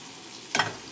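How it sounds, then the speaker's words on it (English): Pre-cooked potatoes drop into hot vegetable oil in a pan and give a brief, sharp burst of sizzling that fades back into a quiet, steady fry. "You're gonna hear them sizzle."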